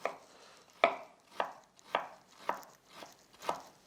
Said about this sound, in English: With your ginger, you do wanna make sure that you do dice this finely as well.